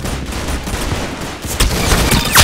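Rapid gunfire in an online shooter video game, a loud dense burst of overlapping shots and impacts continuing throughout, with sharper cracks near the end.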